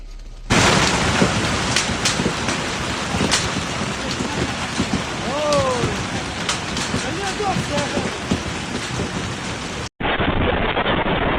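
Rain pours steadily through a Zhejiang thunderstorm with strong wind, dense and close, with deep booms of thunder rolling underneath and a brief cut near the end.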